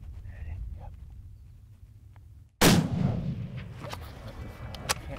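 Rifle shot fired at a pronghorn while hunting in Wyoming: a single sharp, loud crack midway through, following quiet breezy open-country ambience, with a lingering echo tail afterward.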